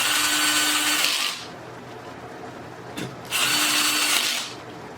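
Power drill tightening bolts on a COMHOMA swivel massage recliner with heat, two loud whirring bursts of about a second each, separated by a quiet pause and a brief click.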